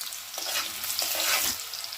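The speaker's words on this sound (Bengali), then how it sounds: "আলুটা একটু লালচে করে ভেজে দেবো।" Cubed potatoes frying in oil until reddish for muri ghonto, a catla fish head dish, with loud, close sizzling that swells and crackles as they are stirred around the pan; no one speaks.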